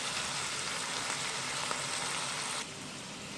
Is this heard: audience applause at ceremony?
no